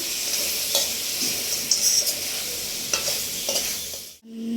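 Pork and broiler chicken meat stirred in a pan, a steady sizzle with scattered scraping clicks of the spoon, close and alone, until an abrupt cutoff near the end.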